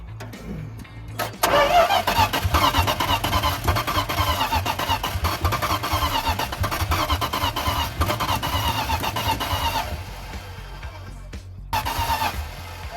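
A Dodge D200 truck engine cranks briefly and catches, then runs with a rough, loud, pulsing mid-pitched rumble at close range for several seconds before easing to a lower idle.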